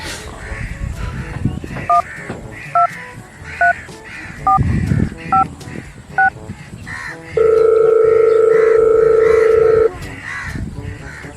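A string of short two-tone telephone keypad beeps sounds at an even pace, then a single long steady tone follows, over a murmuring background.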